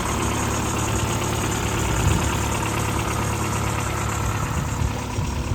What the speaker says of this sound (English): just start the little beast so you can have a listen to how wonderful this engine sounds